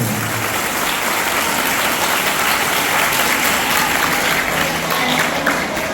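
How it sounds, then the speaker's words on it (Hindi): Church congregation applauding loudly at a worship service, a dense, steady wash of clapping that fills the whole stretch without pause. "इस बात के लिए खुदावंद के हुजूर जोरदार तालियां, जोरदार तालियां"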